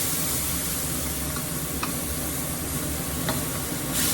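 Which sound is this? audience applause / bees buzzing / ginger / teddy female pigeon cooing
ginger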